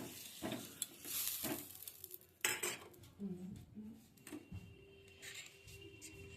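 Batter for Bengali patishapta is stirred with a utensil in a bowl, giving scraping, clinking strokes in bursts between quieter pauses, close by with a faint sizzle from a greased tawa.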